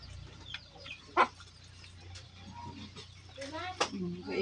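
Chickens cluck and squawk in short bursts at close range, with a person talking over the birds.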